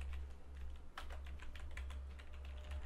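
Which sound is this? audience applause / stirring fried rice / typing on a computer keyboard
typing on a computer keyboard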